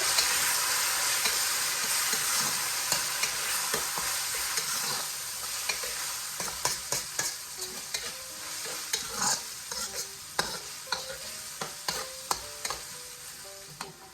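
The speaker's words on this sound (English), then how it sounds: "I have my garlic in now because if I allow this to fry with the onions for that long, they're going to burn." Garlic and onions frying in oil in a pan, a continuous close sizzle with a stream of small pops and spoon clicks that grow busier toward the end, and nobody talking.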